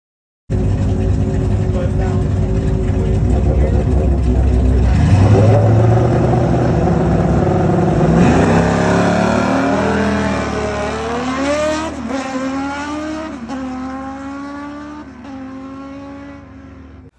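A car launches down a drag strip on a track day, its engine roaring loud and close and climbing steadily through the gears with rising pitch, then easing off as the run ends.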